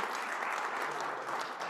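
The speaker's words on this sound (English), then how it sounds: "give them a round of applause to start the day" Applause from an audience at a conference in a Union League Club room, a dense, steady wash of clapping filling the short stretch at moderate volume with no voices over it.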